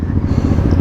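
A hot Ducati motorcycle engine rumbles steadily and close at low pitch while the bike is ridden, a constant throbbing drone with no pauses.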